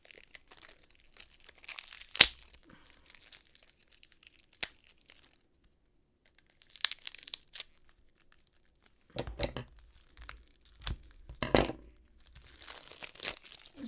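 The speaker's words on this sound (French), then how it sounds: "je vais réussir à ouvrir la petite boîte" A small box is opened and its packaging torn, with scattered crinkles, sharp rips and crunchy bursts of paper or plastic between quiet pauses, close by.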